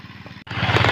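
A power tiller engine chugs with a steady low rhythmic pulse while ploughing a paddy field in Konkan, growing louder and rougher partway through, close by.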